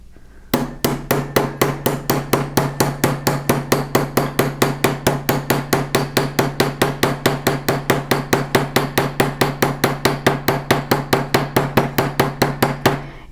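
Hammer strokes texture sheet metal for fold forming, striking about four times per second in a crisp, even rhythm. The sharp metallic taps ring close and loud, on their own without talk.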